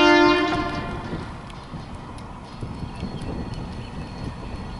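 A freight train's horn sounds loudly at the start, then fades as the rail cars roll past with a steady rhythmic clatter of wheels on track joints.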